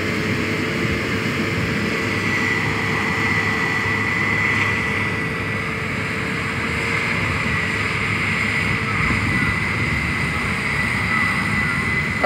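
Aircraft flying low over farmland during harvest, a steady broad engine drone with a faint high whine, continuous and fairly loud throughout with no talk.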